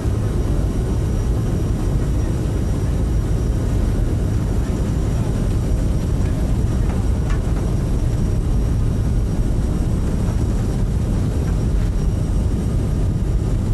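Jet engines of an Aerosoft CRJ900 run at takeoff thrust in Microsoft Flight Simulator 2020, a loud, constant, dense roar holding for nearly fourteen seconds.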